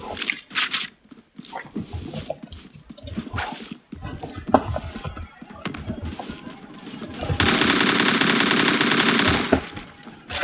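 HK416 rifle fire in the Roblox-style shooter Phantom Forces, rapid sharp bursts of gunshots early on followed by a longer sustained automatic volley near the end, close and loud with game sound effects.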